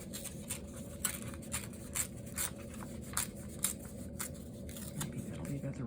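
Paper torn by hand for a junk journal pocket in short repeated rips, layered over steady talking.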